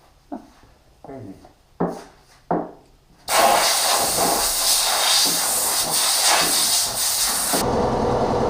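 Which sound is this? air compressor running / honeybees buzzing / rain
air compressor running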